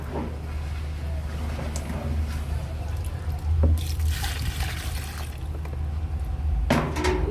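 Water pours steadily into a liquid soap mixture with a continuous liquid rush, a few clinks and splashes breaking through, close by.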